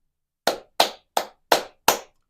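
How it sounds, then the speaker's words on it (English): Five sharp hand claps at an even, steady rhythm, close and fairly loud, with nothing else around them. "We gotta clap it up."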